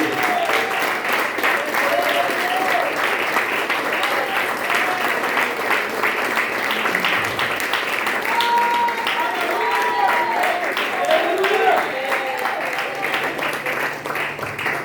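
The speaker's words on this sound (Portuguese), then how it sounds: "Vamos dar a melhor salva de palmas ao Senhor." A church congregation claps in praise during a teaching service, sustained crowd applause with voices calling out and murmuring over the clapping throughout.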